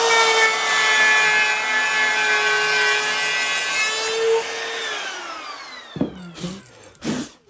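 A power tool whines steadily as it cuts a wooden kitchen work surface, its pitch sliding down as it winds off, followed by a few short knocks and clatters.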